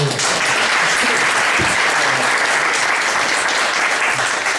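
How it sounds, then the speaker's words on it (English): A breakfast audience applauds two speakers, a loud continuous wash of clapping from many hands throughout, with a brief voice breaking through near the middle. "now a round of applause for both our speakers"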